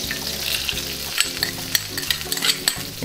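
Mongolian beef sauce sizzles loudly in a hot pan while being stirred, with a continuous close frying hiss broken by repeated scraping strokes and light clinks and no speech.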